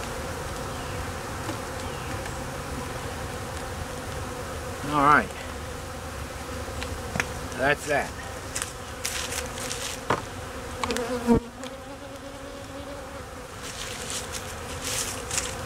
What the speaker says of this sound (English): hopefully the bees will chase the beetles in there